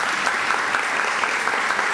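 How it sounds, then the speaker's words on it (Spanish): Attendees at a university recognition ceremony give sustained, even applause, a dense crackle of many hands at steady volume. "pido un fuerte aplauso"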